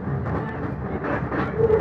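A passenger train running through the hills from Nuwara Eliya to Ella in Sri Lanka, heard as a steady, close rumble and rattle of the carriages that holds for the whole stretch, with no talk over it.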